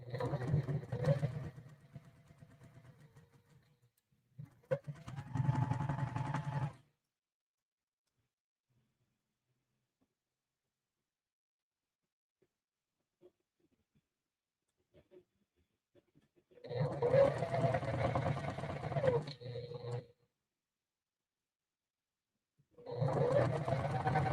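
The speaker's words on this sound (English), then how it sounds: "now I'm sewing, let's see, I'm sewing rows 3 and 4" A sewing machine stitches rows of a quilt gameboard in three bursts of steady, rapid needle chatter, with long quiet pauses between runs.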